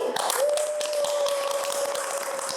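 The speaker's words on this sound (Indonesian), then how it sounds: "Kita tepuk tangan sekali lagi." Applause from a group at a talk on quarter-life crisis, a steady spread of claps with a sustained tone running underneath, moderately loud throughout.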